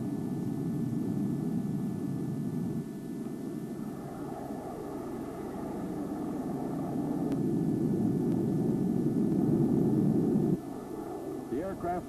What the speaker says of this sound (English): The F-102s scramble.